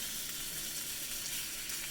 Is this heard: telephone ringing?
no